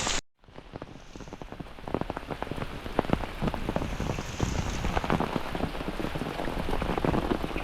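Heavy monsoon rain pours down in a Konkan village during a windy storm, a dense, steady patter of drops striking surfaces that builds slightly and continues unbroken, with no voices.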